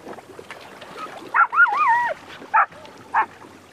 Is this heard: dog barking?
yes